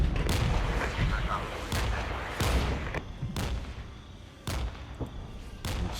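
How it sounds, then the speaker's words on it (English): Artillery fire in the video game Regiments during a NATO night raid: a series of loud, close cracking blasts about a second apart over a continuous roar of battle, with someone talking over it. "Hit it with artillery."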